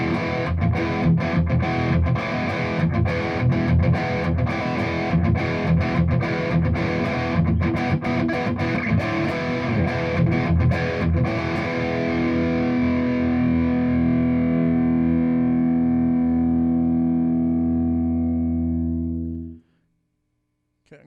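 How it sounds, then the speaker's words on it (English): Electric guitar (Wizard Modern Classic) with mild overdrive plays a gritty, moderately distorted passage, ending on a long sustained chord that rings out and cuts to silence. "get more of an overdrive tone, a little milder distortion"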